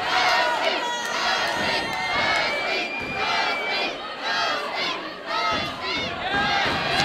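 Loud, dense crowd noise fills a white collar boxing match in London: shouting and cheering roar continuously with overlapping yells, dipping only briefly before surging again.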